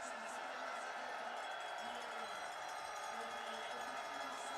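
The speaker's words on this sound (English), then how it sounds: "the French crowd making sure she's feeling all the love and support as she crosses the line" French crowd cheering at a biathlon women's sprint finish line in Annecy, France, a steady wash of distant cheering, whooping and clapping with cowbells ringing through, continuous and unbroken.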